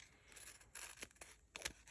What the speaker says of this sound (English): I'm going to use my Resist the Sticky scissors